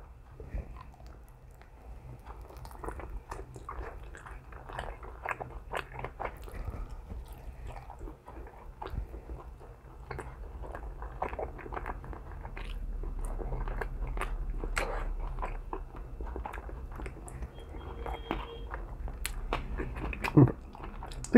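Close, quiet crunchy bites and wet chewing on a Buffalo Wild Wings chicken wing flat dipped in blue cheese, irregular mouth sounds continuing for about twenty seconds with no talking.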